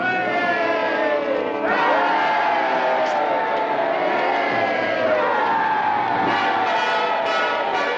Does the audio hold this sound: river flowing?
no